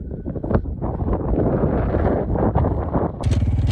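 Wind blowing across a mountain top at Doi Soi Malai in Tak, Thailand: steady, loud rumbling gusts buffet the microphone throughout, with a brief shift in tone near the end.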